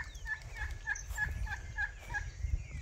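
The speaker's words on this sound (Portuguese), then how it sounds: "A turkey doing this noise, this kind of different noise." A turkey on a small farm gobbles in a quick rhythmic series of about eight short warbling calls, fairly close, over a low background rumble.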